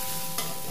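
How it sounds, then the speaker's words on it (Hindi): Green moong chilla batter cooking on a griddle, a steady sizzle of frying with a brief scrape as the spatula flips it, close and moderately loud with no talk. "अब इसको हम पलट देंगे।"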